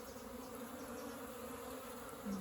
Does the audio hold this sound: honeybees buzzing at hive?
yes